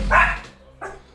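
Two dogs inside a house give a pair of close, loud barks, one short burst followed by a second after a brief pause, with no talk over them.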